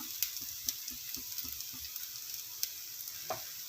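Sweet dosa cooking in sesame oil on a pan gives a soft, steady sizzle with light clicks from the spatula, fairly faint and close, with no talking.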